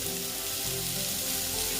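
Steady, dense sizzling of bitter gourd, pumpkin and potato frying in a pan, close and continuous over a low hum, no talking.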